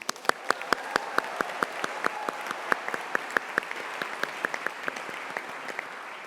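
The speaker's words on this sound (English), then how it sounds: "Let's have a cheer for you." A graduation ceremony audience claps steadily with sharp individual hand claps ringing out in a large hall, sustained and even throughout, with light crowd noise underneath.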